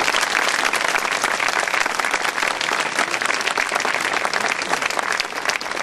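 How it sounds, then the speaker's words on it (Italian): Dense crowd applause at a confraternity procession through a town, loud and steady throughout, with no break. "facciamo un applauso a lui e al parroco per tutta la città."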